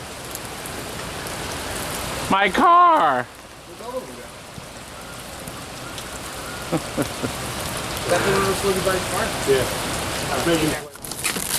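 Heavy rain pours steadily on a surface outside an amusement business in a continuous, close wash of noise, with brief voices talking over it.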